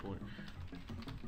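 Fast, irregular clicking of keys on a computer keyboard during a programming session, close and steady through the whole moment, with a voice murmuring faintly underneath.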